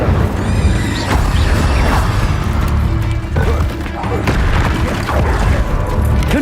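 Incendio fire spell cast in the video game Hogwarts Legacy, a loud, dense burst of fiery whooshing and booming impacts that lasts several seconds, heavy in the low end, with battle crashes mixed in.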